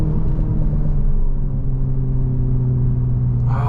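A 2023 BMW Z4 30i at full acceleration, heard from inside the cabin as a loud, steady engine drone over low road rumble, with no one talking.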